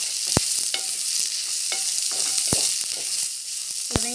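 Onions sautéing in a pan for crab curry, a steady sizzle punctuated by several sharp clacks of a spoon against the pan as they are stirred.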